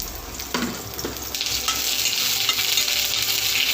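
Whole cumin seeds and a dried bay leaf hit hot oil, bursting into a sharp sizzle that settles into a steady, close, crackling hiss with a few stirring clicks.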